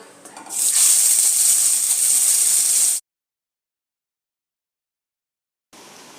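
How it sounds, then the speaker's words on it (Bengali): Fish frying in hot oil in a wok, a loud steady hiss and sizzle for about three seconds that cuts off abruptly, followed by silence and then a faint return of sizzling. "এবার আমি মাছগুলোকে ভেজে নেব"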